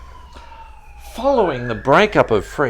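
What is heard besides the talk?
siren passing outside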